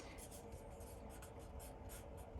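A pen writes on paper close by while someone notes down supplies for a cardboard portrait art lesson, giving a faint, continuous scratchy stroking with rhythmic strokes.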